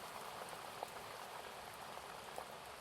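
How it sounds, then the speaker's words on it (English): Steady, faint rainfall with scattered droplet patter, a soft continuous hiss of rain on surfaces with no voices over it. "the rain calming and the sky lightening."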